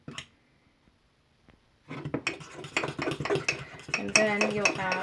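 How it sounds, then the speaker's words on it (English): A spoon working chocolate peanut butter mug cake batter inside a mug, clattering and scraping rapidly against the sides after a brief quiet start, close and busy. "Stir it really good. Get the chunks out."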